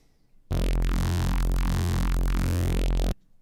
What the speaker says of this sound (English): Give it some distortion.